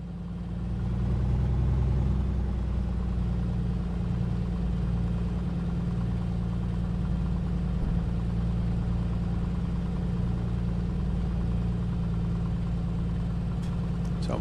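The engine of a Piper PA-24-250 in Microsoft Flight Simulator 2024 idles while taxiing, a steady low droning rumble with an even pulse, close and constant throughout.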